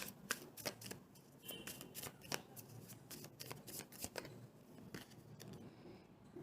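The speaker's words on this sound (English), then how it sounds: "Let me get one more card." Tarot cards shuffled and drawn by hand close up, a quiet flurry of soft flicks, riffles and slides in uneven bursts.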